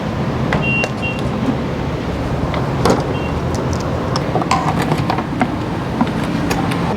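A car cruising along the 101 highway gives a steady, loud road and engine drone with tire hiss throughout, with a few faint clicks and knocks inside the cabin.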